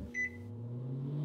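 A microwave oven heating instant coffee: a low steady hum with a short, bright beep near the start, close and fairly quiet.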